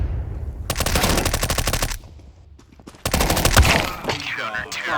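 Rapid automatic gunfire in a video game, two loud sustained bursts separated by a brief quieter gap with faint talk, then scattered shots and voices afterward.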